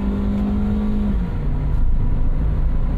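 A car with an automatic gearbox accelerating in second gear, a loud, steady engine drone with a rising then shifting tone, close-up and continuous.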